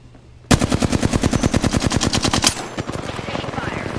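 A long burst of rapid automatic gunfire in a video game hammers out about twenty evenly spaced loud shots over two seconds, then stops and gives way to a quieter rumbling tail.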